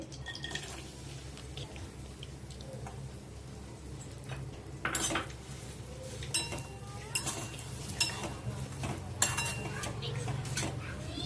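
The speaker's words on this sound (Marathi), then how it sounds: "गूळ छान मिक्स करून घेऊया।" Ghee and jaggery stirred in a pan for a coconut karanji filling, with metal spoon scrapes and clinks against the pan over a low steady background, growing busier toward the end, no talking.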